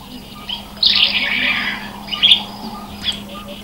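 Harsh, raspy squawks from a South African bird, a long call followed by shorter bursts, played back from a field guide over a low steady hum.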